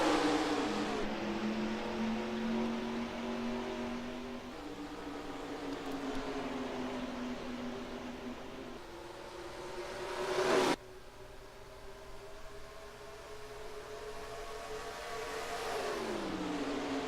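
Race cars accelerate after the green flag in the NR2003 game, a steady droning engine note climbing in pitch through gear changes, with one abrupt cut and a gradual rise again near the end.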